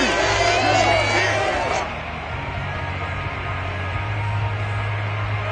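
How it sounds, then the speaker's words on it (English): A home crowd cheers at a Chiefs vs Packers American football game, a broad roar that eases partway through, under a commentator's voice. "that might be exactly what they needed to wake up this home crowd"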